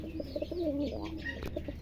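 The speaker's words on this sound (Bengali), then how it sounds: "এই যে ডাকাডাকি করতেছে এটা নর" A young male Bull Head Archangel pigeon with full markings coos close by in a short, repeated run of low, throaty calls.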